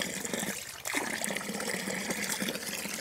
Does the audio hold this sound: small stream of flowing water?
yes